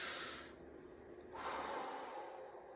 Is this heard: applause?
no